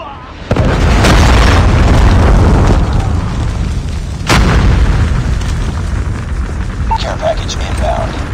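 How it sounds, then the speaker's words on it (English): A loud Predator missile blast in Call of Duty Mobile, a sudden booming explosion followed by a sustained roaring rumble and a second sharp burst, with faint game callouts. "Predator missile inbound."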